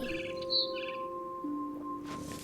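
A bird chirps in What Remains of Edith Finch, with a couple of brief, high twittering bursts near the start over a soft ambient hum, then fading.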